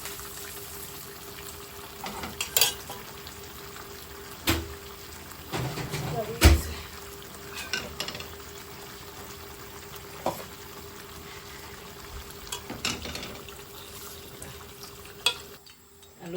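Snakehead fish fry and potatoes fry in a pan with a steady sizzle, broken by repeated clinks and scrapes of stirring; a voice speaks at times over the cooking.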